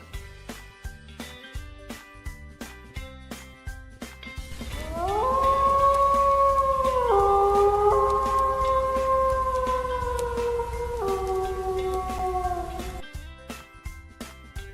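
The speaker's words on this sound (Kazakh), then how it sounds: "Қасқыр." A wolf howls in one long, rising and wavering call lasting several seconds, set over a steady rhythmic ticking beat that continues before and after it.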